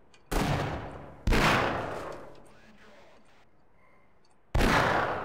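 Three heavy gunshots in Half-Life, each a loud close boom with a long decaying tail, the first two about a second apart and the third after a quieter pause.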